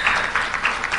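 An audience at a democracy stakeholders' meeting in Arusha applauds to acknowledge the CCM chairman. Dense, even clapping from a full room, steady and moderately loud throughout the short burst.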